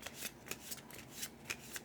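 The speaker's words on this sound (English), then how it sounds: "So we're going to give these a nice shuffle" A deck of research cards for the board game Healthy Heart Hospital is shuffled by hand, giving quiet, rapid, rhythmic riffling and slapping bursts close up.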